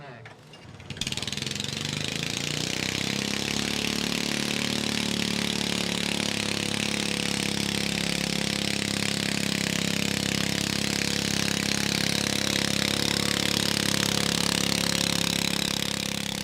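A Cub Cadet tractor engine starts after a brief quiet moment and then runs at a steady idle, a continuous close mechanical drone with no talking.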